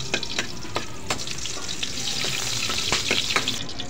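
Garlic sizzles steadily in hot cooking oil in a pan, a dense close frying hiss broken by occasional sharp spatter pops, with no talking.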